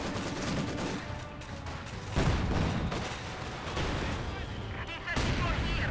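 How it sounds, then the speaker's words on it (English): Mortar blasts and gunfire from a Company of Heroes 2 1v1 match, a dense mix of explosions and rattling shots with strong bursts at intervals, heard alongside the game's continuous battle ambience. "already taking heavy damage there from the mortar"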